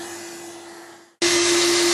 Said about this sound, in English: So I've got the vacuum in here now.